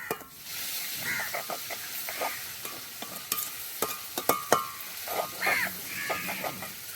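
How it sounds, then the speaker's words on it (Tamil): Spoon scraping and stirring coconut milk into a sizzling pan of Sri Lankan prawn curry, with bubbling liquid and scattered clinks; a bird calls faintly in the background. "தேங்காய் பாலை சேர்த்து கொஞ்சம் நல்லா கிளறி விடுவோம்"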